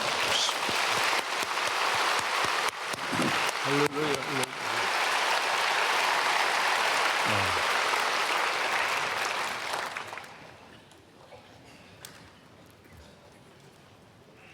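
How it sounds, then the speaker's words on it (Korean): A congregation at a Wednesday prayer service at Myungsung Church claps loudly and steadily for about ten seconds, with voices calling out over the dense applause before it fades to a quieter murmur. "박수 많이 쳐"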